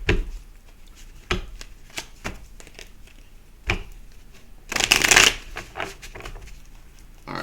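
An oracle card deck is shuffled up close in a quiet room, with short riffling snaps at irregular intervals and one longer, louder flurry of cards near the middle.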